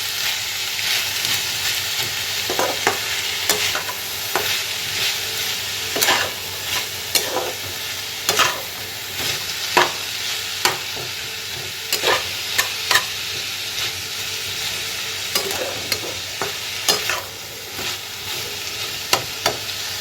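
Capsicum frying in a pan with a steady sizzle, broken by repeated sharp scrapes and clacks of a spatula stirring it, close and continuous with no talk.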